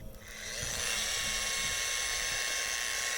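A Vevor wet grinder polishing large rocks outdoors spins up from quiet into a steady high-pitched whine with a constant tonal hum, running alone without speech.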